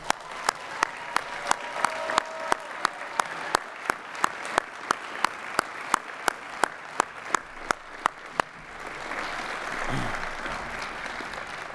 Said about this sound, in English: let's give Frederick County's newest paramedics one more round of applause